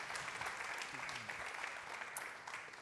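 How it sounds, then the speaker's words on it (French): A theatre audience at an opening plenary session gives steady, continuous applause, a dense wash of many hands clapping that fills the hall, heard fairly faint and distant. "je vous demande un tonnerre d'applaudissements pour le CIC"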